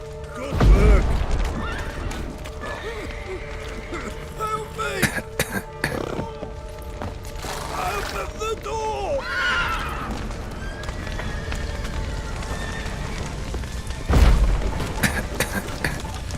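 Video game horses neigh and whinny several times, with clip-clop hooves and a low boom underneath, mid-distance in a busy game soundscape; a faint voice clears its throat.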